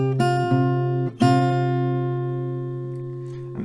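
Acoustic guitar plays the closing notes of a song: two plucked chords, each ringing out long and sustained, close and clear with no voices.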